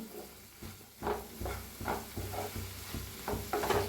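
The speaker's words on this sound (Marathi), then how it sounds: "जिऱ्याची पावडर, तर मिक्स करून थोडा वेळ भाजूया" A spice mix with cumin powder for a chaat dish dry-roasts in a pan, and a spoon stirs and scrapes it in steady, regular strokes over a soft, faint sizzle.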